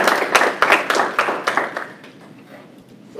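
Audience applause at a District 11 Democratic candidate forum, a scattered burst of hand claps that is loudest at first and thins out over a few seconds with no talking.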